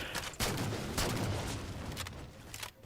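Sustained gunfire from the video game Halo 4 on the Longbow map, loud and continuous with sharp bursts near the start and around one second, firing steadily for the whole stretch.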